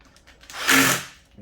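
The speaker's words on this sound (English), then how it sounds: "Once again, we countersink these holes." A power drill countersinks screw holes in a wooden console table, rising into a single short whirring bite that swells and fades within about a second, with no talk over it.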